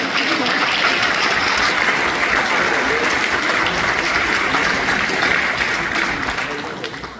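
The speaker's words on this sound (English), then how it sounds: "We'll clap for you." Dense, steady applause from a concert audience at a symphony's inaugural concert, loud and sustained for several seconds before tapering slightly at the end.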